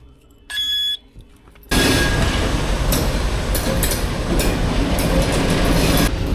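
A train rumbles loudly through Hawkesbury River station in New South Wales after a brief high electronic beep, the heavy roar of wheels and carriages continuing steadily to the end.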